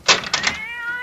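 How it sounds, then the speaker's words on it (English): A cat in a vintage horror radio drama lets out a couple of close, clear meows, the last one drawn out and trailing off, with no voices over it. "that damn cat!"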